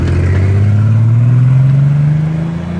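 A car revs hard with its exhaust cut off, giving a loud, raw, unmuffled roar whose pitch climbs steadily and then eases slightly at the end.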